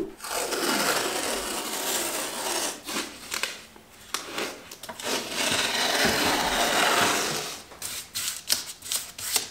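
Drywall walls patched with spackle are sanded by hand, a steady scratchy rubbing that runs in long strokes with brief pauses, close and fairly loud with no talking.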